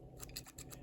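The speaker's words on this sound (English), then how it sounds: "Fantastic scissors. They're great for cutting braided line." The small scissors of a Wenger Fisherman Swiss pocket knife are worked, giving a short run of about six crisp, rhythmic snipping clicks, close and quiet, with no talk.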